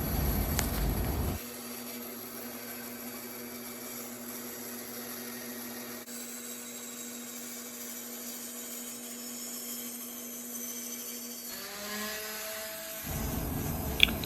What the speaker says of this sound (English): Taking my time at the bandsaw, I'll slowly cut just outside of the line, keeping as close to the line as possible.